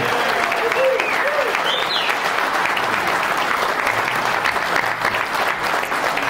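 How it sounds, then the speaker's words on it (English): An audience at a touchdown club awards event in a hotel ballroom applauds, a sustained, full wash of clapping from a large crowd, with faint voices and whoops mixed in. "How about another round of applause for Ed Schluntz?"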